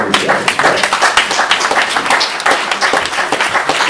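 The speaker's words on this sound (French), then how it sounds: "On peut l'applaudir." Crowd applause at a public political rally in Toulon, a dense, steady burst of many hands clapping for a few seconds, loud and close.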